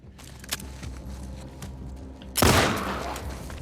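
Gunfire in The Last of Us Part II: scattered shots early on, then a loud burst of fire with a lingering rumble, set against game ambience.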